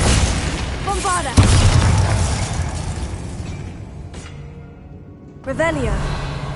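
A Bombarda blasting spell goes off in Hogwarts Legacy with a heavy, loud boom at about the one-second mark, followed by a rumbling tail. Game speech and a second burst come later.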